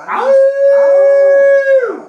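A man imitates a wolf howl with his voice, one long sustained rising-and-falling tone lasting about two seconds, loud and close, heard alone.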